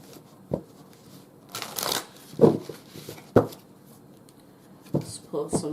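Oracle cards are shuffled and drawn by hand nearby, with soft riffles, slaps and flicks in uneven bursts and faint talk in between.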